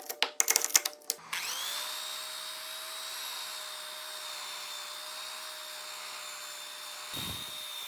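A nylon brush on a power tool textures wood. Some clattery knocks come first, then the motor spins up into a steady high whine that holds close and even before a brief scuffing thump near the end.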